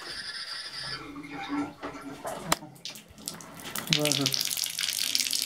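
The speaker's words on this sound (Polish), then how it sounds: "zacząłem puszczać wodę w tej chwili" Water gushes and splashes from a kitchen tap into a sink after a water main failure, with a short spoken word and some clatter partway through.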